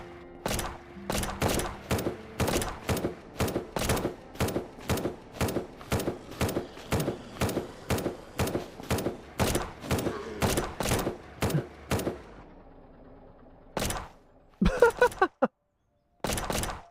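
Automated base turret firing at zombies in the survival game SurrounDead, a loud rapid string of evenly spaced shots for about twelve seconds, then a pause and a few scattered final bursts.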